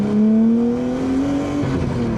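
Nissan R33 with an RB25DET engine and highflow turbo revs hard, its loud, close engine note climbing steadily in pitch throughout without a break.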